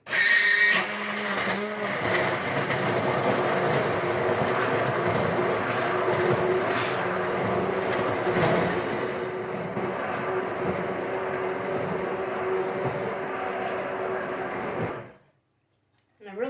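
An immersion blender whirs steadily through vegetable stock with celery and carrot for a long, loud stretch, then cuts off abruptly near the end.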